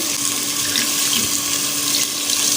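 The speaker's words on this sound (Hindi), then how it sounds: "अब हम इसमें थोड़ा सा पानी डालेंगे" Water pouring steadily into a pan of roasting chana dal, a loud, continuous close-up splash and hiss with no talking.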